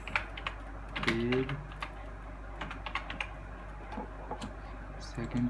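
Keys clatter on a computer keyboard while text is entered for an XHTML and CSS page, a quick close run of light taps with a low steady hum underneath and a voice briefly speaking over it.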